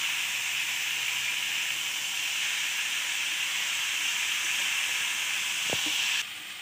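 Kochu loti with small prawns sautéing in a pan gives a steady, close sizzle and hiss, with one short knock of a utensil near the end before the sound drops slightly.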